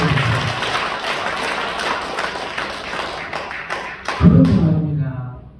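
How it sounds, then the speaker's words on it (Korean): Scattered clapping and tapping from a group at a lecture, fairly close, ending in a louder thump as the clapping dies away. "뜨거운 박수 한번"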